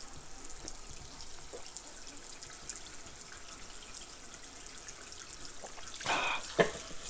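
Water runs steadily as a soft, continuous trickle at moderate distance, swelling into a louder, brief gush near the end.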